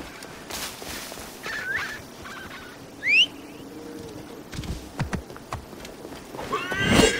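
A horse whinnies and its hooves clip-clop as it is ridden through an enemy area in the Assassin's Creed Origins video game, a short rising neigh midway among quiet game ambience and scattered footfalls, with another whinny at the end.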